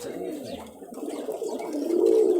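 A crested black mushki Ghonobaji pigeon in a Rajshahi loft gives a low, burbling coo that swells near the end, close by, with faint murmuring voices in the background.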